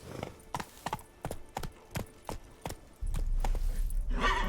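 Hooves of a horse galloping in The Witcher 3 video game clip-clop in a quick, even rhythm of about nine beats, then a louder low rumble and rushing noise take over.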